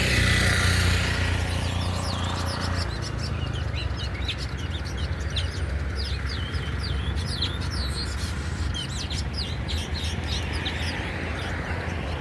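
Weaver birds chirp near their nests among trees in Kitisuru, Nairobi, Kenya, a dense, continuous chorus of quick tweets over a steady outdoor rumble, with no talk.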